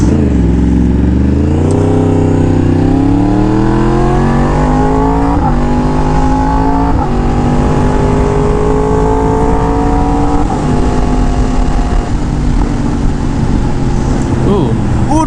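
Yamaha R1M motorcycle with an aftermarket exhaust revving up steadily and holding high, a loud continuous engine roar close by with a rising pitch, while voices talk faintly underneath.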